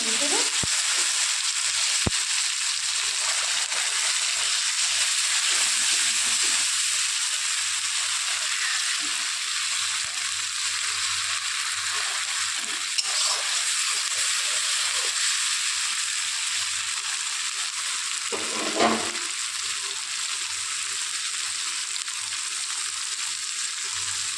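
Bogo fish frying in a pan with turmeric and salt as it is stirred: a steady, close hiss of sizzling oil with occasional soft scrapes and stirs throughout.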